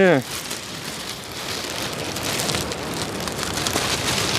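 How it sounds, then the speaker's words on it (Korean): Heavy typhoon rain pours down in a dense, steady roar outdoors on the coast at Sinji-myeon, Wando, South Korea, near abalone farms, with a voice speaking briefly at the start. "비도 지금 굉장히 많이 쏟아지고 있는데"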